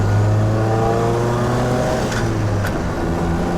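A 1952 MG TD with a non-original engine runs steadily while driving, a low continuous engine drone with slight rev changes and a faint click near the end.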